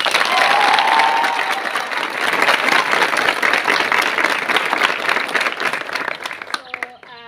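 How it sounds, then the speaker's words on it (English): Schoolgirls at a secondary school clap together to welcome a bishop, a loud, dense burst of applause that holds steady and then thins out near the end, where a voice briefly starts speaking. "Okay, can you clap for the Bishop?"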